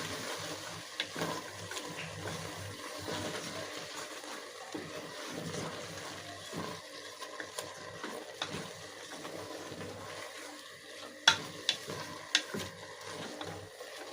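Matumbo tripe fries and is stirred in a pan, a soft continuous sizzle with watery bubbling and occasional light clicks of a utensil against the pan.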